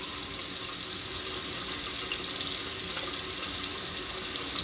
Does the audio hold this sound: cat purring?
no